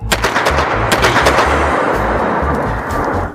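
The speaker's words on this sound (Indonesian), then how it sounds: "Petasan, nyalakan!" Firecrackers burst in a rapid, loud string of cracks and pops at a school welcome ceremony, dense crackling volleys running continuously with no voices over them.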